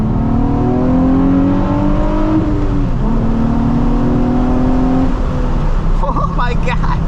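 A Nissan 350Z's VQ engine revs and accelerates loudly nearby, its note climbing through rising pulls, easing briefly and climbing again, with voices heard under the engine.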